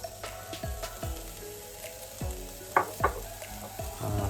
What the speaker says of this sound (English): chopped garlic. Fry for 2 minutes.